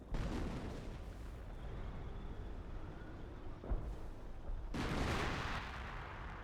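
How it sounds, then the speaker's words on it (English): Artillery barrage in the Company of Heroes video game, with sustained loud rumbling blasts and a heavier burst of explosions near the end, no talk over it. "Artillery barrage back here."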